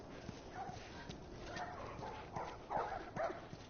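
Dogs barking in The Last of Us, a series of moderate barks and yips spread over a few seconds against a low background, with a voice talking throughout.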